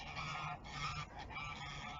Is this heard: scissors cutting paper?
no